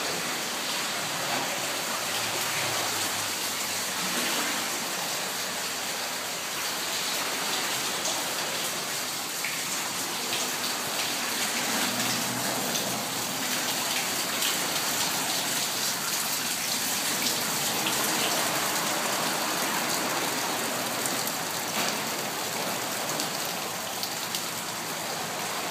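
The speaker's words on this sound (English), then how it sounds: "Here comes another wave." Seawater surges and washes through a dark tunnel beneath a tsunami wall in Japan, a dense, steady rushing hiss with scattered splashing that fills the enclosed space, with no talk over it.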